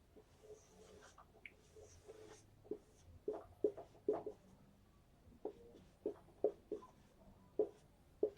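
Chalk or marker writing on a board during a math class on relations and functions, heard as faint irregular taps and short scratchy strokes in a quiet room, with no talking.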